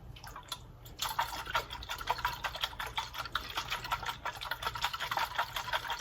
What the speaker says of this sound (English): I am vigorously shaking this thing and nothing is coming out.